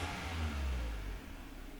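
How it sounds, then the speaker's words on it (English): A 2002 Toyota Camroad camper's engine revs once, loud and close, holding a deep throaty roar for about a second before dropping back to a low idle. "Lots of vroom vroom."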